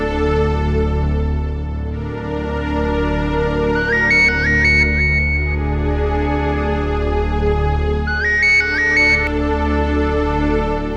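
A phone ringtone sounds during an outgoing call, a repeating electronic melody of quick bright notes in two bursts, about four seconds apart, over a sustained musical drone.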